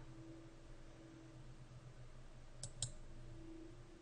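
A computer mouse clicked twice in quick succession while working in Fusion 360, soft close clicks over a steady electrical hum and quiet room noise.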